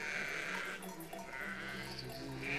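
Sheep bleating in the World War I video game Valiant Hearts: The Great War, a few broken calls over a steady, busy game background with music-like tones.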